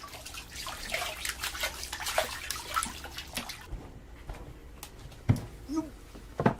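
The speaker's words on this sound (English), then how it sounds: "Sangoro's wife, Chikano, washes the fish salted in spring." Salted fish being washed by hand in water at a Japanese rural home, with sloshing, splashing and dripping close by, a quieter pause midway, then further splashes.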